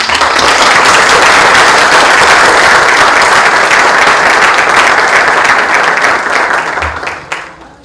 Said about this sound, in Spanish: Les pido para ello un aplauso.